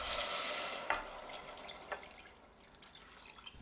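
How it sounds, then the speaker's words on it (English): Three cups of water poured into a pot of toasted rice, a rushing liquid hiss that is strongest at the start and tapers off, with a couple of sharp drip splashes and no talking. "Grab your water, 3 cups, 750 milliliters, pour it in."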